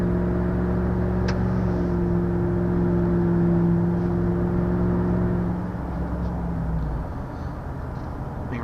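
2016 Ram 1500 pickup with a 5.7-litre Hemi V8 pulling hard, a steady low engine drone and whir rising through a gear run, then easing off near the end, heard from inside the cab.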